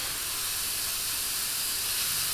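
An airbrush driven by a compressor at about 20 psi sprays metallic paint, giving a steady, loud, even hiss that runs unbroken from start to finish with no voices over it.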